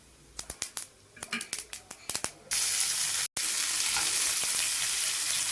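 Mustard seeds, cumin and fennel hitting hot oil in a pan: a series of sharp crackling pops, then a sudden loud steady sizzle that stays strong, with a voice heard at moments.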